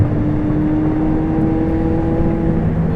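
A 2016 McLaren 675LT engine running close and loud with a steady droning whir and sustained tone as the car moves through its gears, no speech.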